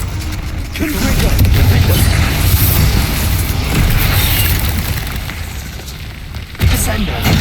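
Confringo fire spell blast in Hogwarts Legacy, a loud rumbling fiery boom that roars and crackles for several seconds, then a sharp second impact near the end.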